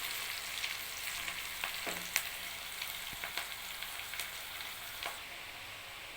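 Onions fry in ghee for chicken qorma with a steady, close hissing sizzle, dotted with faint pops and a few light stirring clicks.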